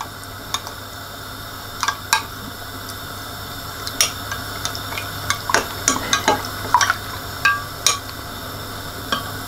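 An ingredient being stirred into a sizzling meat mixture in a pan, a steady low frying hiss under irregular scraping and clinking of a utensil against the pan, close by, with no talking.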